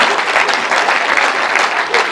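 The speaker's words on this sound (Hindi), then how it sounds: "तो तालियां थोड़ी सी बजा दीजिए," Dense, steady applause from a large audience at a Hindi poetry gathering (kavi sammelan), continuous crisp clapping filling the space with no pauses.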